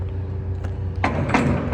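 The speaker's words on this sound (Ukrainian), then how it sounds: "Зараз закриваю двері" A metallic truck trailer door swings shut with a couple of clunks over a low idling engine hum outdoors.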